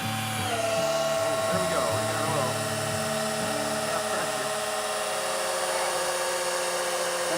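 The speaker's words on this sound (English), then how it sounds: "this end in your power drill, spin it quickly, and get oil to everything" A power drill spins the oil pump drive rod of a barn-find Firebird engine to prime it, giving a steady high whine with shifting tones that runs throughout, with a person speaking briefly at the start.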